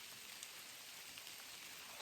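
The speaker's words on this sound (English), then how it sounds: "This morning, thunderstorm, downpour." A steady rain downpour falls in the woods after a thunderstorm, a continuous soft hiss of drops on surfaces, even and fairly faint, with no voices.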